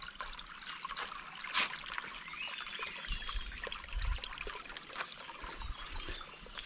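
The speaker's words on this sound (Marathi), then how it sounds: "हे बघा पाटाचं पाणी पण कमी झालं." Water trickles faintly and steadily along an irrigation channel in an orchard, a soft continuous babble with occasional low thumps and light outdoor noise.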